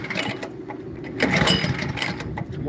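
A small engine with the choke on sputters and catches, giving a rough, buzzing run with uneven bursts close by.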